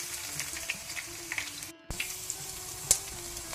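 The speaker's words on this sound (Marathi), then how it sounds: "सासांव फुटून येताना ताका दाडावन दवरली लसूण आमी घालची." Crushed garlic hits hot oil with crackling mustard seeds for a Mangalorean star gooseberry pickle, giving a soft steady sizzle with sparse pops and one brief clink.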